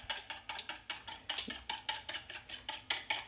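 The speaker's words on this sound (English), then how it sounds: "So we're going to whisk up this egg." A whisk beats an egg in a bowl with quick, steady clinking strokes, roughly three or four per second, faint and close, with no talking.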